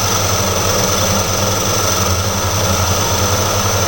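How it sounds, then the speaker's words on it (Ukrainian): Metal lathe turning down a workpiece while cutting a bolt-carrier groove: a steady, loud mechanical hum with a constant motor whine and rough cutting noise, unbroken and close. "Проточив я нашу заготовочку"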